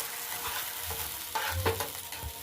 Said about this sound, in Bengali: মশলাগুলো ভাজা হয়ে গেছে, এবারে আমি জল দিয়ে দিচ্ছি।